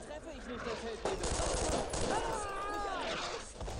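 Thompson submachine gun in the World War II shooter Brothers in Arms: Road to Hill 30, firing loud, close rapid bursts that crackle and echo, with other battlefield gunfire and voices mixed in.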